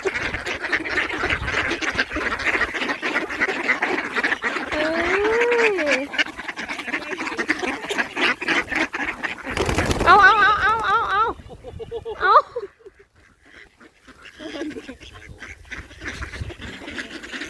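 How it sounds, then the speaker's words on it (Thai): Muscovy ducks quack repeatedly around several people chatting, the flock close by and fairly loud, with a sudden burst of noise midway. "ดงเป็ด"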